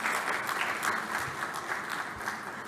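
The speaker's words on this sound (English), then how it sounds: "A louder round of applause, ladies and gentlemen" Audience applause at an automotive technology event, an even, steady patter of many hands clapping, moderately distant and fairly quiet throughout.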